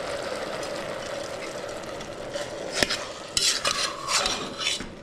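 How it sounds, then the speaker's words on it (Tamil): Rice being stirred and mixed in a pan for jeera rice, soft scraping and a faint sizzle with a few sharper metal-on-pan clinks toward the end, quiet and close, without voices. "மிக்ஸ் பண்ணதுக்கப்புறம் நல்லா இதை கலந்து விட்டுக்கலாம்."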